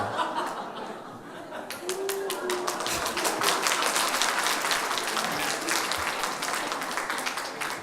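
Applause from a church congregation during a pastor's sermon, sustained fairly even clapping mixed with some light laughter, moderately loud throughout.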